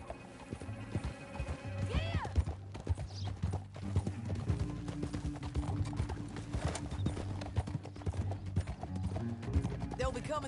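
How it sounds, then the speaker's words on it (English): Horse hooves clip-clop at a gallop in Red Dead Redemption 2, a steady rapid rhythm running under game music, with a horse whinnying briefly and voices speaking over it. "Back on your horse. Let's get after them."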